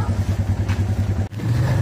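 A motorcycle on the move gives off a close, low, pulsing engine thrum with a steady throb and a slight rise in pitch near the end.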